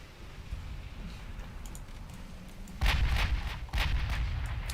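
Heavy cruiser warship in a naval video game struck by small torpedoes, two loud booming explosions a second apart over a low rumbling background, the first blast followed by splashy crackle.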